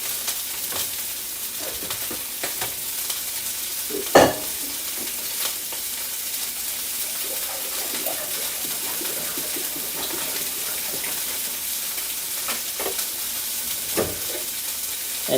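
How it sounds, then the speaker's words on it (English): Onions, peppers and other vegetables sauté in rendered beef sausage grease for a pepper pasta, giving a steady low sizzle with a few stirring scrapes and one sharp clatter partway through. "we're going to throw in all our vegetables with all the grease that's coming out of the sausage"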